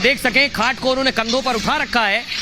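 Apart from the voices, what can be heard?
None of the usual background noises is heard.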